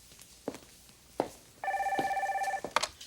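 An indoor telephone rings in one steady electronic trill lasting about a second, with soft footsteps and small thumps around it.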